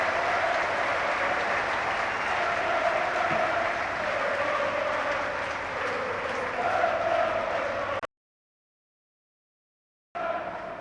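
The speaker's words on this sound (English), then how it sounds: "And here is the applause for Virgil van Dijk" Football supporters applaud a departing Virgil van Dijk being substituted at a pre-season match between FC Groningen and Southampton, steady broad clapping filling the stadium for about eight seconds before a brief silent gap and a short return.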